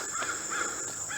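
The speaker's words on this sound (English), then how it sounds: "just listen to the birds. You can hear the birds." Crows caw outdoors in repeated harsh calls at moderate distance, set against a steady high insect-like hum, with no voices.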